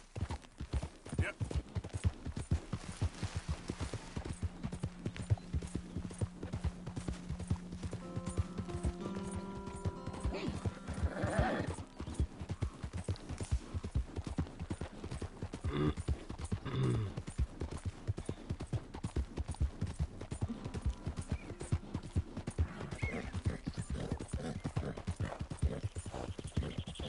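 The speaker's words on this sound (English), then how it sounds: "Is that a deserted horse that I had at one point?" Horse hooves in Red Dead Redemption 2, a steady, fairly close clip-clop running throughout, with a brief whinny-like sound and other game noises mixed in.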